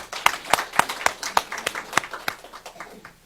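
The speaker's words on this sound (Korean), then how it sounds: "우리 격려의 박수 한번 해줘." A church congregation at a Korean early-morning prayer service gives a short round of encouraging applause, scattered claps from a small group, moderately near and fading toward the end.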